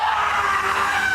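A person screams in one sustained, loud, high-pitched cry that holds steady for its full length, with no talk around it.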